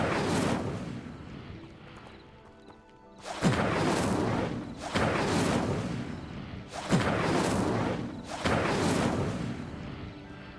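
Four loud, roaring blasts of the Incendio fire spell in Hogwarts Legacy, each a heavy whooshing burst of flame, spaced a couple of seconds apart, with no talk over them.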